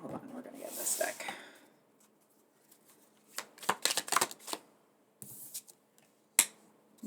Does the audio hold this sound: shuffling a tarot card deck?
yes